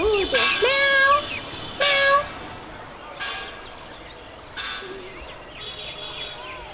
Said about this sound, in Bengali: ওই গাছের সাথে একটা বিড়ালও রয়েছে